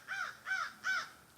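Three harsh caws from a crow, evenly spaced and clear, moderately close outdoors with nothing else around them.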